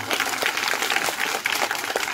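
An audience at a village stage programme in Chhattisgarh claps at close range, a dense, continuous patter of many hands throughout the short burst.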